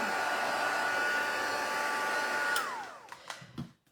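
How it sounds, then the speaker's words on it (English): A heat gun blows hot air over paint on a craft tag, a loud steady whoosh with a faint whine that cuts off near the end, leaving a few soft clicks and knocks. "Just let me hit it with the heat gun just for a second, otherwise we can't move on."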